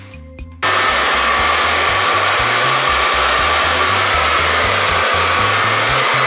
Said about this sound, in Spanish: El cuarto paso es secar el pelo con la ayuda de un cepillo para dejarlo totalmente seco